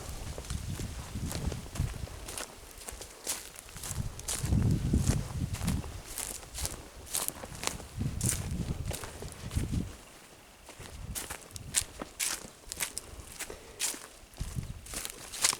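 Footsteps crunch through a fire-damaged forest in Thailand, steady irregular treads over dry burnt debris, close and fairly loud, with no talking.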